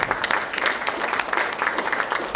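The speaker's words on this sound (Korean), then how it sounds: "좋은 말씀 해주신 남인정 씨에게 다시 한번 박수 부탁드리겠습니다" An audience at a political party training session for local government leaders gives a speaker a round of applause: brisk, dense clapping from many hands, close and steady throughout.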